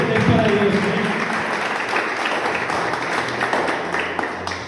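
A church congregation applauds during a sermon, with sustained mid-level clapping mixed with crowd noise and a few voices throughout.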